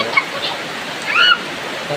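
A stream of water flows in a steady loud rushing wash, close by, with a voice briefly audible over it.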